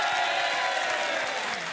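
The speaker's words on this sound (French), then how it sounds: "on vous applaudit et on accueille Maëva et Bruno" A studio audience at a French television dating show claps and murmurs in a continuous, dense wash of applause and crowd noise.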